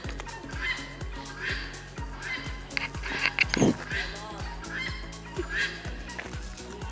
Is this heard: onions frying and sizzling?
no